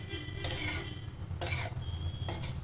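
Dry fruits roasting and being stirred in a pan for Sindhi khorakh, with three bursts of scraping and clinking a second apart over a steady sizzle.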